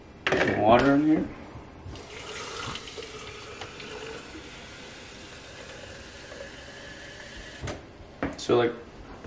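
Water pouring into a shaker bottle of pre-workout and creatine, a steady hissing splash lasting several seconds, with a voice before and after and an idling engine faintly underneath.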